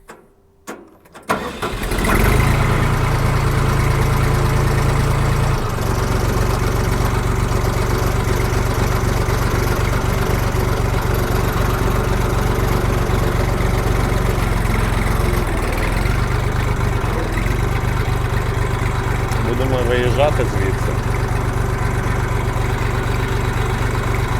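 A small Jinma mini tractor engine cranks and catches, then settles into a steady, loud idle with a low continuous rumble that holds to the end.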